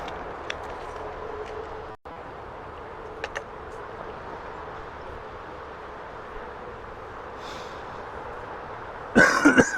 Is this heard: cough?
yes